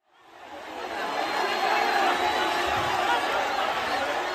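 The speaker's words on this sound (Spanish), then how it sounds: "las gradas están llenas, hay aplausos" A full football stadium crowd roars and applauds in a steady, dense wash of sound that swells in over the first second and then holds loud and continuous.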